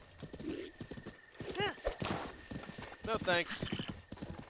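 Horse hooves clip-clop steadily with a couple of neighs and whinnies in Zelda: Breath of the Wild, crossing a bridge while someone talks over the action.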